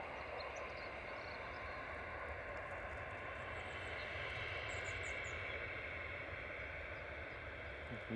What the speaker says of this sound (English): Ethiopian A350 just touching down.